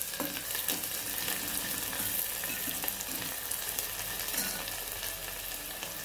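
Finely chopped onion sizzles steadily in hot oil in a home kitchen pan while being stirred, a dense continuous frying hiss with occasional soft scraping, close and alone without speech.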